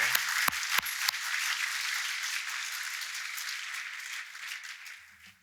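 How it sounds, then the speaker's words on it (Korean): A church congregation applauds the children during a Sunday service; a few sharp, separate claps open into a continuous wash of clapping that slowly fades over several seconds. "우리 격려하는 차원에서 뜨거운 박수 다시 한번 보내주시기 바랍니다."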